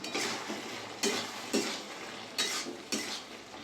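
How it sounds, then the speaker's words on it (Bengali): A spoon scrapes and stirs prawn curry with potato, pumpkin and sugar in a pan, giving five separate strokes against the metal over a faint sizzle. "ভালো করে সব মিশিয়ে নেবো"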